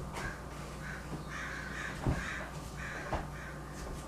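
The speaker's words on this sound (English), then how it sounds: "The birds are quite noisy, don't you agree?" Crows caw repeatedly, harsh calls arriving in a loose rhythm at moderate distance over a steady background hum.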